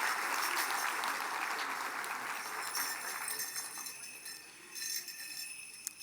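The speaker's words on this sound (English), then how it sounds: "One more round of applause." Audience applause fills a ceremonial gathering of the Mille Lacs Band of Ojibwe, a steady broad clapping that starts strong and gradually thins out, with a brief burst near the end.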